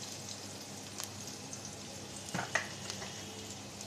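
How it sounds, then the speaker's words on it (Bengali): Chopped green chillies, onion and garlic sizzle in hot mustard oil with a soft, steady frying hiss. A couple of light stirring clicks sound close by, and no voices are heard. "সরিষার তেল দিয়ে দিছি। এবার দিয়ে দেবো কাঁচামরিচ কুচি, পেঁয়াজ কুচি, রসুন কুচি।"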